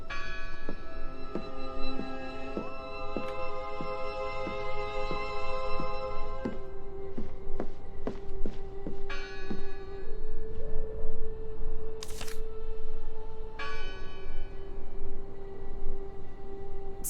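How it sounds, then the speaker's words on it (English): A church bell tolls repeatedly in a steady rhythm inside the video game Draugen, each strike ringing out with long sustained tones that overlap and decay slowly. "Listen! The bell!"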